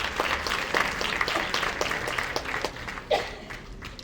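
An audience at an air freight transport panel claps in a round of applause, individual claps audible within a moderately loud, fairly steady patter with a few sharper accents.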